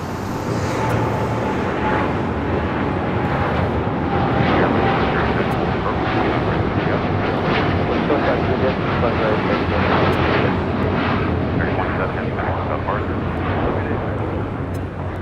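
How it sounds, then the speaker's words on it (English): An American Airlines Boeing 787-8 Dreamliner bound for Tokyo Haneda takes off from LAX, its thunderous, crackling engine roar steady and close for the whole stretch, with people talking beneath it. "This is American Airlines Flight 27 taking off to Tokyo Haneda on a 787-8 Dreamliner."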